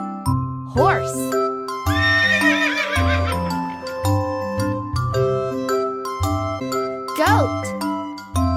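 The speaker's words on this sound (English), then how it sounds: "Horse." A horse gives loud, shrill whinnies, with a rising squeal near the start, a long quavering neigh around two seconds and another near seven seconds, over a bouncy jingling children's melody.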